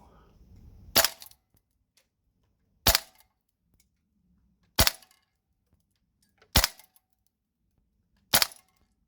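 Tokyo Marui AKX gas blowback airsoft rifle running green gas and 0.25 g BBs fires five single shots through a chronograph, each a sharp close crack spaced about two seconds apart with near silence between.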